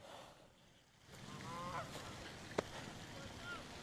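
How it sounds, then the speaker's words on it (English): Canada geese honk a few times at a distance by Lake Illinois over a steady outdoor wind-like hiss, with a brief sharp click partway through. "These are Canadian geese for all you children watching."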